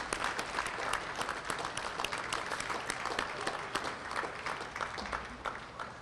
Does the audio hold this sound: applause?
yes